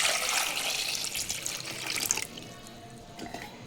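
Water pours from a tap into a pot holding eggs in a home kitchen, a steady close rush of splashing that cuts off after about two seconds and leaves faint trickles and drips.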